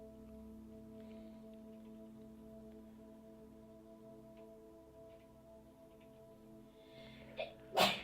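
A single sharp sneeze bursts out near the end, close and loud, after a long stretch of quiet room tone with steady low electrical hum during a study session.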